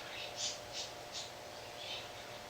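Several short, high chirps from pet birds sound in a quiet room, four or five calls spaced irregularly at a moderate distance.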